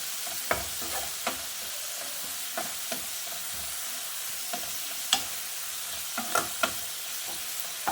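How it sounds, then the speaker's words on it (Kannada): Amaranth leaves fry in oil with a soft continuous sizzle, punctuated by sharp, irregular clicks and scrapes of a spatula stirring the pan. "ಒಗ್ಗರಣೆಯಲ್ಲಿ ಫ್ರೈ ಮಾಡಬೇಕು"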